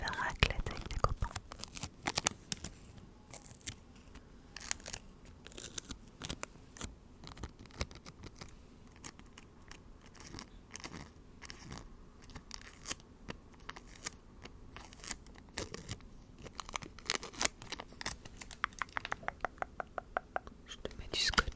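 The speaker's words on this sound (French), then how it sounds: "Je te mets du scotch." Adhesive tape handled, stretched and torn close to the microphone for ASMR, a stream of crackling, sticky peeling and ripping bursts, with soft whispering running through much of the recording.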